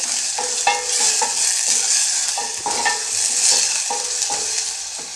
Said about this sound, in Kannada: ಇವಾಗ ಇದನ್ನು ಒಂದು ಸ್ವಲ್ಪ ಈರುಳ್ಳಿದು ಏನು ಹಸಿ ವಾಸನೆ ಇರುತ್ತಲ್ಲ ಅದು ಹೋಗೋವರೆಗೂ ಸ್ವಲ್ಪ ಫ್ರೈ ಮಾಡ್ಕೊಳ್ಳಿ